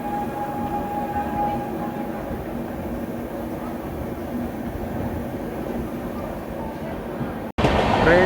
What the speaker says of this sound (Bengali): ট্রেন ছাড়ার সঙ্গে সঙ্গেই আমাদের ট্রেনের সঙ্গে প্যারালাল রেস হয়ে যাচ্ছে পুরী আনন্দবিহার টার্মিনাল এক্সপ্রেসের